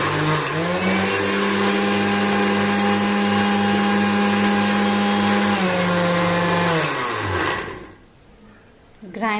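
An electric grinder whirs steadily at high speed while grinding coriander seeds into powder, loud and close, then winds down and stops near the end.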